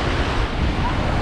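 Ocean surf at Pensacola Beach, Florida, in the evening, a close, loud rush of breaking waves mixed with blustery wind buffeting the microphone.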